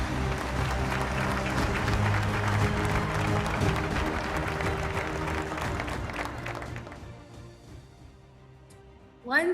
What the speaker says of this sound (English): let's give a virtual round of applause to our dear Governor Ortega